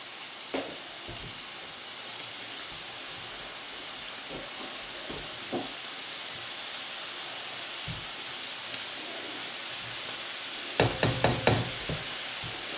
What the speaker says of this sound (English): Right, it's back in with the chips just to finish them off.